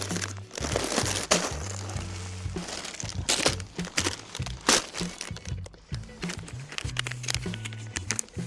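Plastic packets of Fishup soft fishing lures crinkle and crackle continuously up close, with irregular sharp rustles and handling noises, while a voice murmurs in the background.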